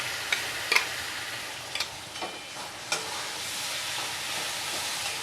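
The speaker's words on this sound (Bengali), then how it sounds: "এটাকে আমি ভালোভাবে কষিয়ে নেব।" Spice paste with turmeric frying in a pan while being stirred, a steady soft sizzle with a few sharp scraping taps of the spoon spread through.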